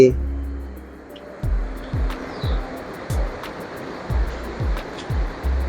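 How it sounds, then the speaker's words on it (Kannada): Broad, steady rush of river water at the Uppinangady Sangama river confluence, heavy and continuous, with repeated low buffeting thumps mixed in. "ನೀರು ಹರಿದು ಹೋಗ್ತಾ ಇದೆ ಅಂತ"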